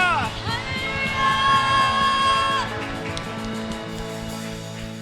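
A church congregation shouts together during lively worship, a burst of loud overlapping yells and whoops over sustained music that fades into a steadier crowd murmur.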